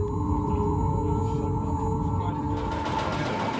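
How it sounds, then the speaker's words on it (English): Underwater noise of a submarine picked up on naval sonar arrays, a continuous low rumbling hum with steady tonal lines and faint whale-like wavering tones, fairly even in level throughout. "Sonar operators also listen to the actual sound from the sonar arrays"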